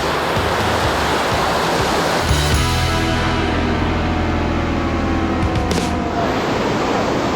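Intense waterfall in São Paulo roaring as a loud, steady wash of falling water, close and continuous throughout, with a brief spoken word over it.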